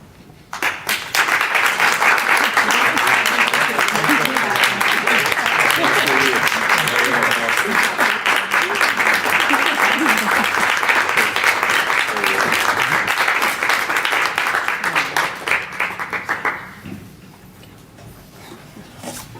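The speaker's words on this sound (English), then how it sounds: "we're going to give everybody up here a big round of applause" An outdoor crowd at a city announcement on West Broad Street, Bethlehem, breaks into loud, sustained applause lasting about fifteen seconds, with scattered voices mixed in before it fades.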